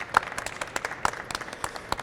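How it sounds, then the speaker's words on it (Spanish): Brief burst of audience applause, scattered claps rising and fading quickly in a room, loud and close. "Un aplauso para él."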